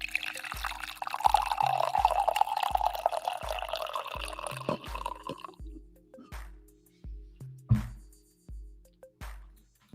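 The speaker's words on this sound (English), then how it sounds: "let's get a coffee pour" Coffee poured into a cup: a steady liquid stream for about five seconds, then a series of separate drips and small splashes, close and fairly quiet, over a regular low ticking pulse in the background.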